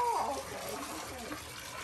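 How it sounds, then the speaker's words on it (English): Water runs steadily from a tap during household chores, a continuous close gush that keeps flowing throughout, with a brief voice heard at the start. "He liked the sound of water."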